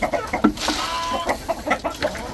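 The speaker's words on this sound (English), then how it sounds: "In here we have the silver partridge Brahma." Silver partridge Brahma chickens cluck in a steady, close run of short calls, a busy layered chorus from several birds at once.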